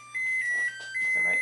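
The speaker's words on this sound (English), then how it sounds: "That's my singing oven telling me it's up to" A kitchen oven chiming a sustained electronic tone to signal it has reached temperature, steady and fairly clear, with a voice talking over it.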